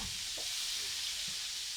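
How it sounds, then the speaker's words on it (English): Scallops sizzle in a frying pan with a steady, dense hiss of hot fat that holds at an even level throughout, with no voices. "if your scallops aren't sizzling, then you're doing it incorrectly"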